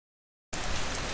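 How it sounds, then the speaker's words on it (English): Steady rain sets in abruptly after silence, a dense, loud, even thrum that continues unbroken to the end with no voices. "Then the thrum of the rain"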